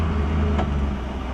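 A BMW E36 M3 with an S54 engine, a Euro-spec car, drones steadily from the cabin while driving, a continuous loud low engine hum with no talk.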